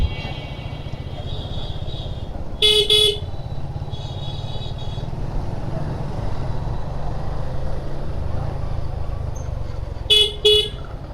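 Heavy road traffic in a jam in Barguna, Bangladesh, with engines and motorbikes idling and rumbling steadily, and a few short bursts of honking from car horns, recorded from a Suzuki Gixxer motorcycle.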